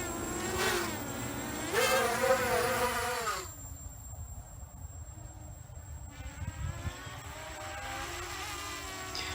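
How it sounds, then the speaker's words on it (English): A small quadcopter drone's high, buzzing motors whine and rise in pitch as it spins up for takeoff, then settle into a steady hum with a low rumble underneath. "the drone is about to take off"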